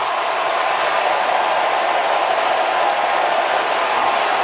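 A baseball stadium crowd roars after a double off the ivy-covered outfield fence in a Padres–Cubs wild card game, a dense, steady, far-spread wash of cheering with no breaks.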